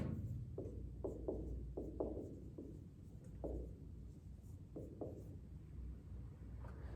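Faint strokes of a pen or chalk writing during a math lesson on sine and cosine curves: short scratchy marks in irregular bursts over a quiet, steady room hum.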